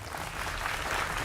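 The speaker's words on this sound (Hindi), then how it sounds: "उनका अभिनंदन है जोरदार तालियों के साथ।" Studio audience at a televised Hindi political debate show gives a brief burst of applause, a dense, even wash of clapping heard alone.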